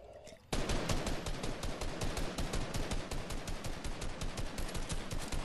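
Rapid automatic gunfire from the Fortnite video game, played on a PS4 console, bursts in after a brief quiet start and continues as a loud, dense, steady rattle of shots to the end.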